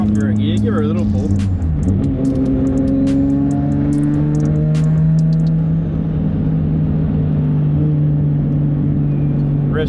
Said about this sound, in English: drop her a gear, give her a little pull.